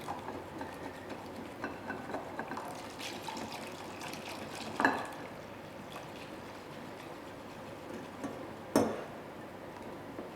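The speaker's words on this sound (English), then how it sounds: "I'm going to add some more milk." Milk being poured into a smooth custard mixture in a school food-room kitchen, a soft continuous liquid trickle with two brief clinks, fairly quiet and with no talking.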